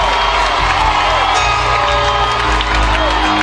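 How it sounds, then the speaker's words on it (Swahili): A church congregation claps and ululates loudly and continuously at a Pentecostal revival service, a dense roar of cheering voices and hand claps that fills the space. "Tumwaibisha shetani kwa kupiga makofi na vigelegele."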